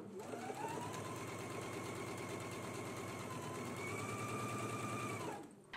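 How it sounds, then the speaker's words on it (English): A sewing machine runs a continuous burst of stitching down the center back seam of a garment at a 5/8 inch seam allowance, a steady close whir with rapid needle ticking that stops abruptly. "we can go ahead and stitch at a 5/8 of an inch seam allowance"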